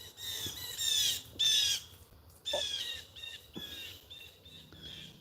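A crow caws close by outdoors near ducks, several harsh squawking calls in irregular bursts with short gaps between them.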